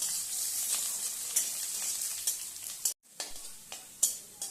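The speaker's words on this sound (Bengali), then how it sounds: "আলুটা বেশ লাল লাল করে ভেজে নিয়েছি" Potatoes fry in oil for ghugni with a bright, crackling sizzle, broken by intermittent stirring scrapes and a brief pause in the sound near the middle; no voices.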